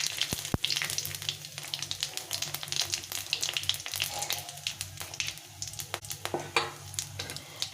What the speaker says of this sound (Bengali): আমি সরষের তেল দিয়ে দিলাম পরিমাণ মতো, আর জিরে ফোড়নে দিয়ে দিলাম।